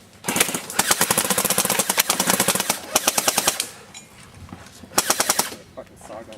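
An airsoft SAW machine gun firing at an outdoor airsoft game, several rapid bursts of sharp clattering shots with short gaps between them, loud and close.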